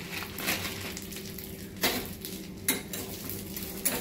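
Fried vermicelli being stirred gently in hot ghee in a pan for festival payesh, giving soft scrapes and clinks with a few sharper utensil taps against the pan, close and fairly quiet.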